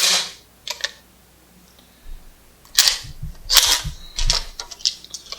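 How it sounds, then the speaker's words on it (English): Pump-action shotgun with its ejection port rolled down as the action is worked to clear a stuck empty case: a few sharp metallic clacks and rattles, close by, separated by brief pauses. "Easily corrected by rolling the shotgun ejection port down and pumping the action."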